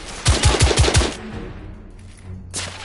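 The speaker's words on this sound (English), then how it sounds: "Oh, they're shooting at me!" Enemy gunfire in The Order: 1886: a close, loud burst of five or six rapid shots lasting about a second, then quieter echoing tail and a later faint shot.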